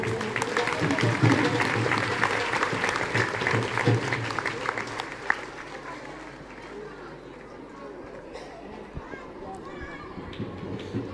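Loud, dense clapping from a crowd at Sarkar Krishan Murari Shah Ji's birthday celebration at a darbar in Kulli, mixed with chatter. The applause is strongest for the first five seconds, then thins to scattered claps and crowd noise.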